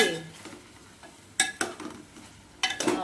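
Mushrooms cooking in a pan with masala for mushroom biryani, with a faint sizzle under several sharp clinks and scrapes from a spoon stirring against the metal pan.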